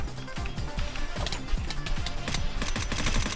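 Rapid gunfire in the shooter game Free Fire: bursts of automatic shots in quick succession with repeated sharp cracks, loud and continuous throughout.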